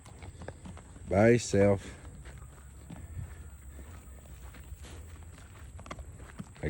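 A Missouri Fox Trotter saddle gelding's hooves clip-clop in a soft, steady patter near a gate outdoors, faint under a man's brief, loud talking.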